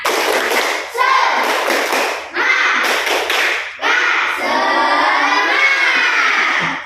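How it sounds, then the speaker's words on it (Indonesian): Classroom of children doing the tepuk semangat spirit clap together, loud rhythmic bursts of clapping in short phrases separated by brief pauses, with kids' voices mixed in. "coba kita tepuk semangat dulu ya"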